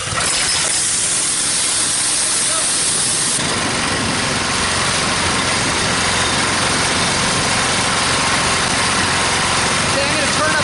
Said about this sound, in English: At the same time, I'm gonna pull this to start the motor.